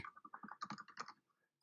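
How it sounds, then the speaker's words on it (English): A computer keyboard clatters loudly and close to a microphone in a quick burst of rapid, irregular keystrokes. It stops briefly and then gives one more tap. "your keyboard is incredibly loud with the microphone on, Alyssa."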